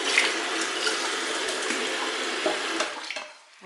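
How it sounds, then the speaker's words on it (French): Water runs steadily from a tap into a mug as water is measured for a mug cake, a continuous close splashing stream that tapers off near the end. "Donc je vais remettre de l'eau."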